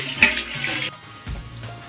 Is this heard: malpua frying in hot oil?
yes